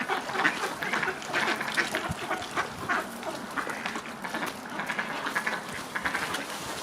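Ducks gathered on ice while being fed, a busy chorus of overlapping quacks and honks that continues throughout at close to moderate distance.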